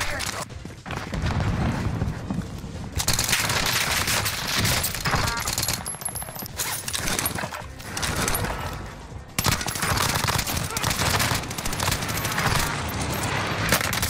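Sustained automatic submachine gun fire in the video game Warzone Rebirth, loud and near, with dense rattling bursts and short pauses across most of the clip, under occasional voices.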